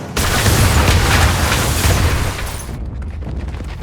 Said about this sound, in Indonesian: bom panci yang sudah dipersiapkan Solotov sebelumnya meledak dan membuat Ishak terpental